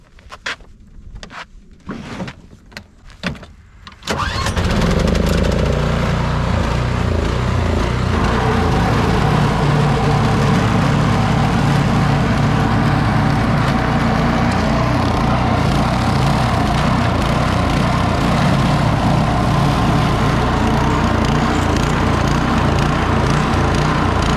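Gas snow blower starts up after a few faint knocks and then runs loudly and steadily, its engine roar and churning auger blowing snow continuously up close, with no talking.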